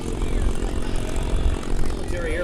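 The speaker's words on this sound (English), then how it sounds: "Military airplanes that are here for your viewing pleasure" WWII-era warbird propeller planes at the 2015 Joint Base Andrews airshow drone steadily overhead, a loud continuous engine rumble filling the scene with crowd noise beneath.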